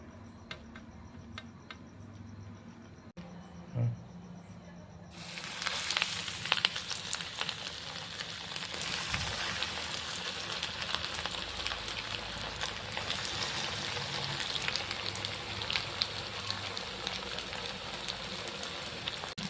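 Fish pieces deep frying in hot oil for crispy fried fish, a steady dense crackling sizzle that starts after a quiet opening and holds loud and continuous, with no talking.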